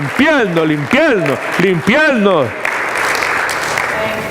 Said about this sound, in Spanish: Un aplauso fuerte al Señor, por favor